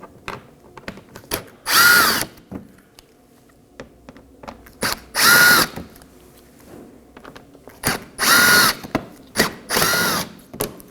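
A power drill spins out Phillips head screws from the corners under the front bumper of a 2015-2023 Nissan Maxima: four loud, close whirring bursts about three seconds apart, with faint clicks and handling noise between them.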